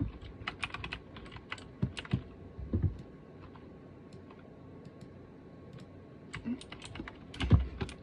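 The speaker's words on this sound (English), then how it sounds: "Keyboard!" A computer keyboard clatters during a Fortnite trio match, with quick bursts of close, crisp keystrokes at the start and end and a quieter, sparser stretch in between.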